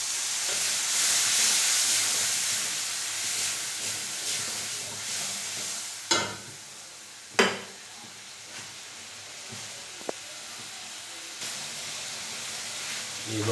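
Chana masala hisses and sizzles steadily in a pan after water is added, with a few sharp bursts and clinks from stirring breaking through the constant steamy crackle.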